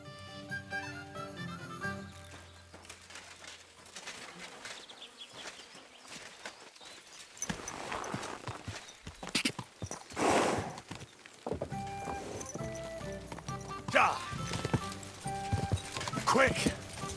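Horse hooves clip-clop in Kingdom Come: Deliverance II, an irregular trotting patter mixed under game music, buzzing insects and background chatter, with a louder clatter near the end.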